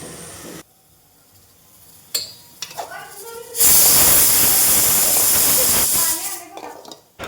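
Dill greens cooking in a covered pan give a loud, steady steam hiss that rises suddenly and holds for a few seconds, preceded by a few light clinks and quieter kitchen sounds.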